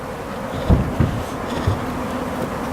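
A swarm of honey bees hums steadily around a nuc hive packed with bees, a dense continuous buzz with a few closer thumps as bees pass near.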